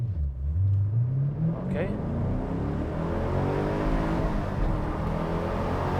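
A Chevrolet Camaro SS with a 6.2 V8 pulls hard from a standstill toward 100, its engine note climbing steadily and loud from inside the cabin with the window open, after one brief spoken word.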